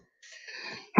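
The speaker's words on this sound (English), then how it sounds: "excuse me, I just sneezed" A single sharp sneeze bursts out close to the microphone, a brief hissing intake followed by an abrupt explosive release, with no talk around it.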